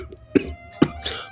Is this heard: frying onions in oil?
no